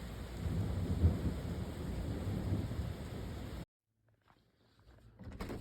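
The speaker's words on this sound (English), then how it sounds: "a little bit of thunder." Thunder rumbling through a heavier Friday afternoon rain shower, a loud continuous roll over the rain that cuts off abruptly, followed by near silence and then faint returning rain noise.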